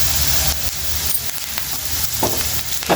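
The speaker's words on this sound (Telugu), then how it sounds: "ఇట్లా మంచిగా ఫ్రై చేసుకోవాలండి." Egg frying with onions and a pinch of turmeric in a hot pan, a loud continuous close sizzle with occasional stirring scrapes and crackles throughout, no voices.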